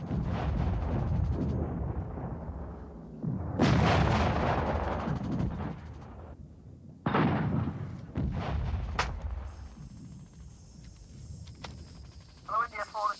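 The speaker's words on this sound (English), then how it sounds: "Intend to blow the bridge now. Blow it. Russ, fire it now and leg it." Demolition charges blow a bridge during a military exercise: loud, deep, rumbling blasts roll out in several heavy bursts, followed by a thin steady radio-like tone as the noise fades.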